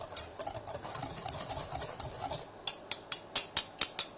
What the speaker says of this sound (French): là j'ai juste mélangé sucre et maïzena